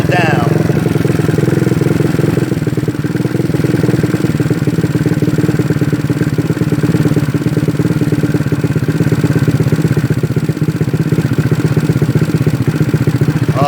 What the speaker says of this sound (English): So I'm going to bring my idle down.